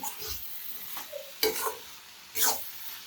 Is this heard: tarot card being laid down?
no